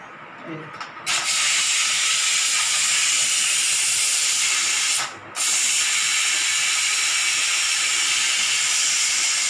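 A pressure cooker steaming prawns vents with a loud, steady steam hiss that starts after a second, cuts out briefly midway, then resumes and holds to the end.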